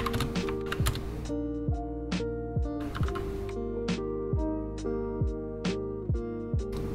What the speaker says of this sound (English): I cannot see what I'm typing.